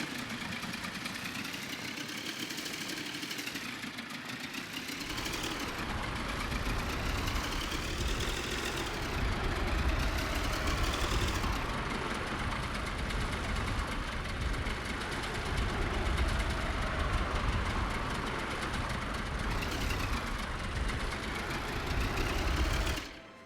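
A car engine in the city-building game Workers and Resources drones with a rough, mechanical buzz that repeatedly swells and sweeps in pitch, holding a steady level for over twenty seconds with no speech.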